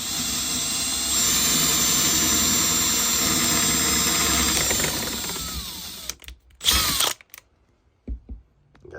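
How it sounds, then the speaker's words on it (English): A power drill bores out space for a RAM mount plate on a car dash, a loud steady whine held for about six seconds, then cut into short bursts and rattling handling noise with quiet gaps. "now I'm going to drill out the space for this RAM mount"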